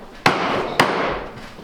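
Two sharp, loud wooden mallet blows ring out about half a second apart while boat building work goes on, each strike a crisp close knock followed by a brief ringing decay.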